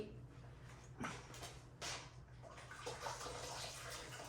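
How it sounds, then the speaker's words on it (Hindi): Water is poured into a rice pot in a home kitchen, a faint splashing trickle with a few louder gushes and clinks. No one speaks. "इसमें मुझे लगता है थोड़ा और पानी डाल देना चाहिए"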